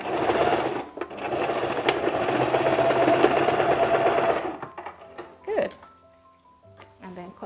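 A sewing machine stitches down two flattened fabric strips where they meet. Its steady, close, mechanical whirring runs for about four and a half seconds, then stops, and a few quieter handling sounds follow.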